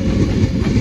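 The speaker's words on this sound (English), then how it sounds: "here comes an Avanti West Coast service to London Euston" An Avanti West Coast train to London Euston pulls through Crewe station, a loud close rumble of wheels and carriages with a rolling clatter over the rails, no voices.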